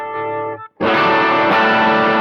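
A clean guitar note rings briefly, then a loud, thick, distorted electric guitar chord on the back pickup bursts in and sustains with a gritty, powerful tone.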